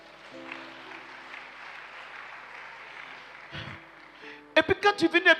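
A congregation bursts into rhythmic clapping near the end of a church worship service, loud and close, following a stretch of sustained music and voices.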